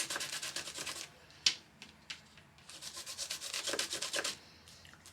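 Paper is rubbed over the cutting edge of a metal craft die to pick up its outline, a quiet dry scratching and scuffing in short bursts with brief pauses, close by and alone.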